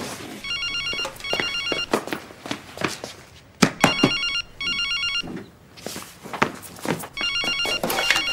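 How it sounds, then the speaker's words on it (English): A telephone bell rings in repeated double bursts indoors, loud and close, interrupted by a few thumps and footsteps between the rings. "That'll be my phone."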